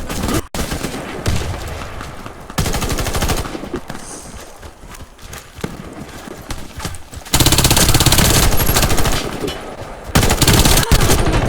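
Rapid automatic gunfire in the shooter game Warface crackles in bursts of varying loudness, with dense rattling stretches separated by quieter gaps.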